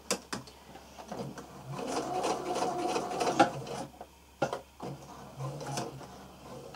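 A sewing machine running slowly around a curved seam, with short bursts of stitching broken by pauses and light handling noises, close and moderately loud.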